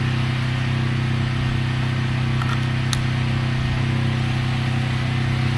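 A pressure washer engine drones steadily throughout at an even pitch, revs turned slightly down, loud and close, with a faint higher whine on top and no voices.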